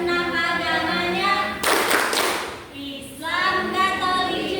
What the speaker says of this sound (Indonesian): Tepuk toleransi.